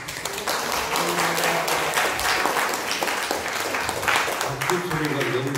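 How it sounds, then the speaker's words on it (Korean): A Korean church congregation gives welcoming applause as a pastor comes forward at Sunday worship, loud dense clapping throughout, with a voice speaking briefly over it near the end. "박수 소리가 너무 커서 기대가 됩니다."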